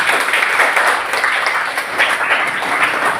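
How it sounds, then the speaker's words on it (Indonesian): Classmates applauding after a group presentation in a class session, a dense, steady patter of many hands that stays loud and even for a few seconds with no talk. "Boleh dahulu tepuk tangan."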